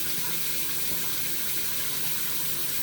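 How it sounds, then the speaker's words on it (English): A tap runs steadily into a shaving bowl during a wet shave, making a constant close rush and splash with no talking. "We're gonna put water in there, in that bowl, like that, right?"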